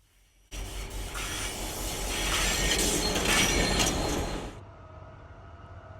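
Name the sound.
vintage train southeast of Perth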